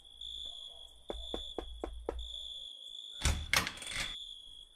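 Knuckles rap on a house door five times in quick succession, then a door rattles and opens, all faint against a steady high-pitched tone in the background.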